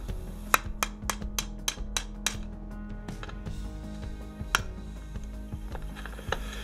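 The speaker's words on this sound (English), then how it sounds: "Gonna use this trusty chisel." A chisel is struck with a hammer to pry the chain bumper off a Husqvarna chainsaw: a run of sharp metallic taps, quick and regular at first, then sparser blows, close up with no talking.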